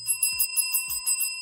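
A hand bell rung to announce a winner gives several quick bright metallic rings with sustained tones, loud and close, with no talk over it.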